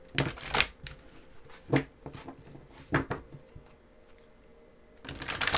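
Tarot cards are shuffled in several quick riffling bursts separated by pauses, close and crisp with no talking.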